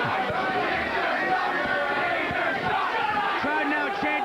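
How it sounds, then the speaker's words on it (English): Wrestling crowd at a 2000 USAPW indoor event in Mineola, New York, chanting encouragement to a wrestler, a dense continuous roar of many voices with rhythmic chant pulses, steady and loud throughout. "Crowd now chanting words of encouragement to their favorite wrestler, Danger."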